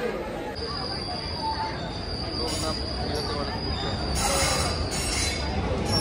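Shahid Superfast Express train at Rampurhat station, its wheels giving a continuous high, thin squeal over a heavy rolling rumble that swells slightly toward the end.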